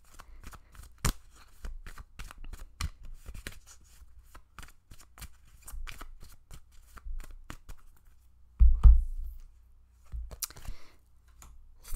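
A deck of tarot cards is shuffled by hand, giving quick papery riffles and flicks in bursts, close and fairly quiet, with a heavier handling thump near the end and no talking.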